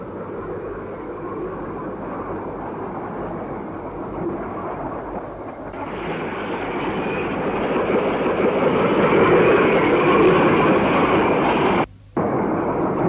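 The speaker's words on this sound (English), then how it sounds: "Here I am on the train, far away from the bustle and hustle of Tokyo." A train running through the Japanese countryside away from Tokyo gives a steady, broad rumble and rush of wheels and air that swells louder midway, then drops out sharply for a brief moment near the end.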